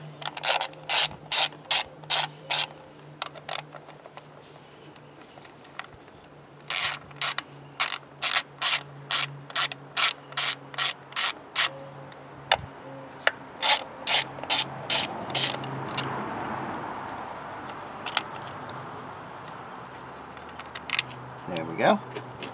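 Ratchet wrench clicking in quick bursts while loosening the spark plugs on a 2010 Ford Fusion SL, loud and close, with pauses between strokes and someone talking faintly in the background.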